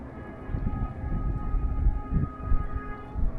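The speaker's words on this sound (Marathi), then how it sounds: "आवाज पण येत असेल तुम्हाला ट्रेनचा" Rumbling train passing near a hilltop fort, a steady low roar with rolling rhythmic clatter that swells and eases over a few seconds, fairly close and continuous with no talk.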